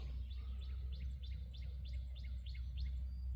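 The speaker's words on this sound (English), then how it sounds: "I can hear the hawks, and it's really nice." Repeated high bird calls, likely hawks, sound at a quiet coal mine cemetery among pines, rising at regular intervals over a steady low background rumble, fairly distant and faint.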